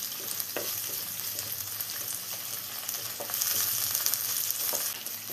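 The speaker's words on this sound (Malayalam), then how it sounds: "ഇനി എല്ലാം കൂടെ ഒന്ന് മിക്സ് ചെയ്തെടുക്കാം." Ginger, garlic, green chilli and curry leaves sautéing in oil for fish peera, a dense constant sizzle with occasional stirring scrapes, close and steady, growing a little louder toward the end.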